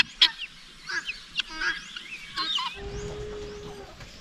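Farmyard poultry kept near a rural hut squawk and honk noisily in a string of sharp, scattered calls, fairly close, followed by a lower steady hum and rustling background.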